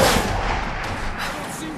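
A gunshot in the Tomb Raider 2013 video game: one loud, booming report with a long rumbling tail fills the short moment, heavy and close with a wide, reverberant decay.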